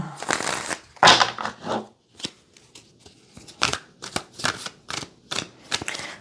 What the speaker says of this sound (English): Actually, let me shuffle a little bit more.